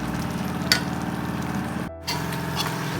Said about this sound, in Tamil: அந்த பவுடர் ஆட் பண்ணி இந்த மாதிரி நல்லா மிக்ஸ் பண்ணிக்கோங்க